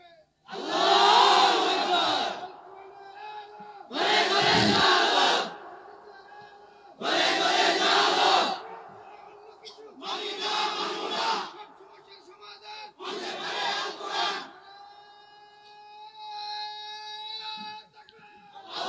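At an Islamic waz religious gathering, a large crowd chants a slogan in unison in five loud, rhythmic bursts, each separated by a short pause, with lingering voices between them.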